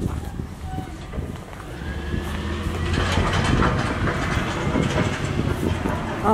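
A garbage truck drives by, its low engine rumble and rattling swelling louder as it approaches and staying close and heavy toward the end.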